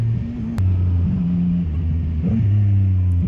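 A CF Moto 675 motorcycle engine revs in quick blips during rev-matched downshifts, its low droning note stepping up and down in pitch, close and steady under wind noise.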